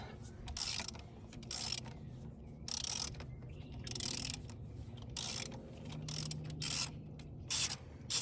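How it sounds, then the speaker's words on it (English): Ratchet with an extension loosening the oil filter housing on a Jeep Wrangler, bursts of rapid metallic clicking in short repeated strokes separated by brief pauses, close and crisp. "got an extension on it. And we're just going to loosen that housing up to pull the filter out"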